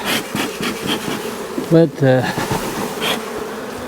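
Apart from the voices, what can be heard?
honey bees buzzing during hive inspection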